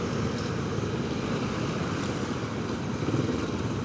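Motorcycle turning around on a road in Indonesia, its engine a steady droning rumble mixed with passing traffic noise, continuous and fairly loud with no talk.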